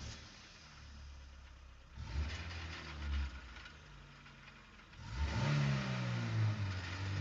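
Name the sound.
car engine revving, stock sound effect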